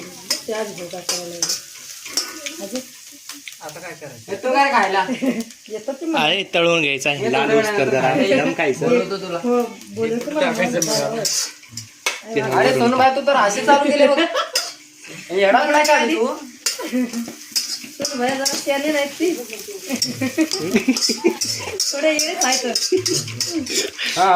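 Poha is stir-fried in a pan, with a steady sizzle and repeated spoon-scraping under almost continuous talking.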